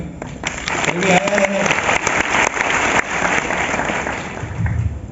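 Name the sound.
audience applause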